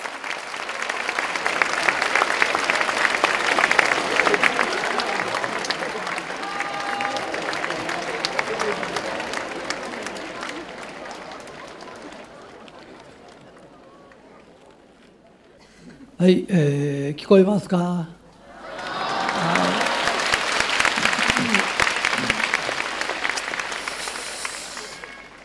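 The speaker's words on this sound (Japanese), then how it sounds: "大きな拍手をお願いいたします。" Lecture hall audience gives loud, sustained applause for a speaker's entrance, dense clapping that fades, breaks for a brief spoken mic check, then swells again and continues steadily.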